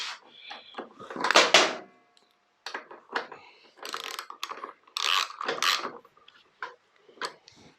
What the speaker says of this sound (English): We'll get our ratchet, which was 14s for these.